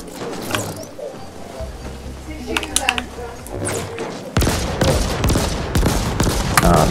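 Gunfire in the action game The Ascent, scattered shots at first and then a loud sustained burst of rapid fire in the closing seconds, with speech mixed in.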